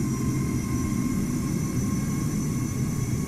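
A Qatar-liveried airliner at Amsterdam Schiphol in Microsoft Flight Simulator, under cloudy skies, gives off a steady, unbroken engine roar, heavy in the low end, that holds at an even level throughout.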